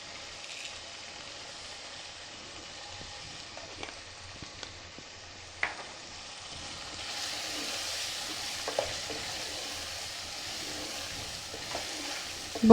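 Chicken keema cooks in a pan with whole coriander seeds, giving a faint, low sizzle and occasional scrape and clink of stirring, growing a little louder and brighter partway through.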